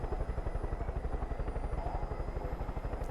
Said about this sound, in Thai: เฮลิคอปเตอร์ เฮลิคอปเตอร์